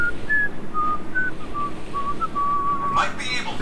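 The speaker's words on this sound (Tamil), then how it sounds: "என்னடா விசில் உதற?" Whistling from a character in Marvel's Guardians of the Galaxy on PS5, a wandering melodic tune of held and sliding notes over steady game ambience.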